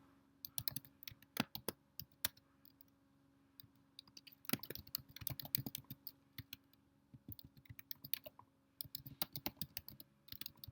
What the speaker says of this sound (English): So I'm going to go ahead and type my verse.